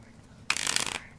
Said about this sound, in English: get these in a shuffle